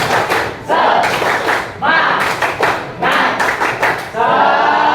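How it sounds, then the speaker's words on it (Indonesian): A classroom group performs a rhythmic 'tepuk semangat' spirit clap, loud, close bursts of clapping in a patterned beat with brief pauses between phrases, voices mixing in. "Tepuk semangat."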